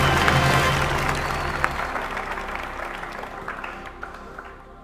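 A studio audience at a Bhojpuri quiz show breaks into loud, sustained applause that gradually fades over about five seconds.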